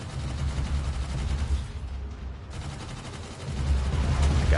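Ship guns firing in the VR space shooter EVE: Gunjack, a steady low rumbling barrage of rapid shots that continues throughout, loud and without talk.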